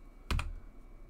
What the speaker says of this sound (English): I can press enter on my keyboard